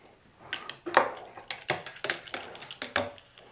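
A bar spoon stirring a homemade Moxie soda, giving a series of light clinks and taps against the glass in an irregular rhythm, close and fairly quiet.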